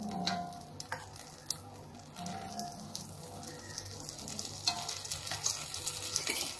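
Bread omelette cooks in a pan with butter drizzled around the edges, giving a low, steady sizzle with scattered pops and the occasional scrape of a utensil, close by and fairly quiet, with no talking.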